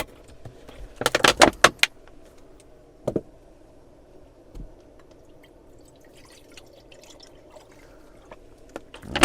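Water poured into a pan on a budget camping stove outdoors, a short burst of splashing and dripping followed by a couple of isolated drips, with quiet outdoor background between.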